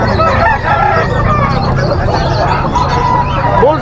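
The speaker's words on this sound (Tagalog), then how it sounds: "Quality manok ito mga master." A fighting cock offered for sale crows among other roosters at a busy poultry market, loud and close over constant crowd chatter and clucking, with people talking throughout.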